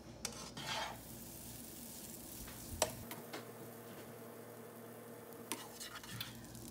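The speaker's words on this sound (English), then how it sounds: "We're gonna start by melting some butter in the pan." Butter melts in a pan with a quiet, soft sizzle beneath light scraping and stirring, plus a few sharp utensil clinks against the pan, faint and close, without talk.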